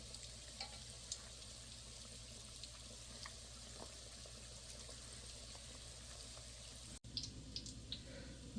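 Milk date pitha fries quietly in a pan, a faint steady sizzle with occasional soft pops and a brief clatter near the end, no voices.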